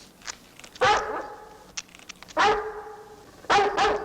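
A dog in a Wonder Woman TV episode gives three loud, sharp barks spaced apart, each with a short echoing tail, with faint clicks and rustles between them and no speech.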